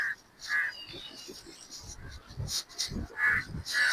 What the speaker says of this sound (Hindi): अब देखें कौवे पता नहीं मेरे साथ क्यों दुश्मनी कर रहे हैं।